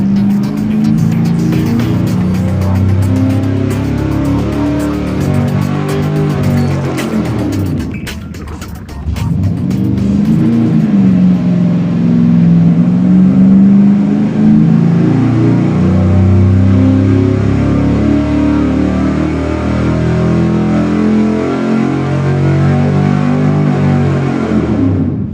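A small block V8 roars at full throttle through a long dyno pull, its pitch climbing steadily, then briefly dropping away before the loud, harsh engine note surges back and sustains.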